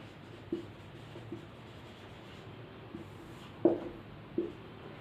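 Marker or chalk writing on a classroom board in a biology lesson, a few scattered soft taps and scratchy strokes over a quiet room, with a sharper knock near the end.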